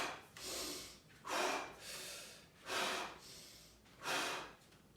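Heavy workout breathing: four loud, rhythmic exhalations, strong forceful puffs with quieter inhales between them, close to the mic, with no talk.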